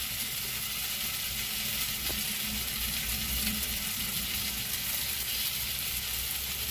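Tomato and onion sautéing in a pan for palak paneer, a steady close-up sizzle of frying that holds evenly from start to finish with a faint stirring scrape.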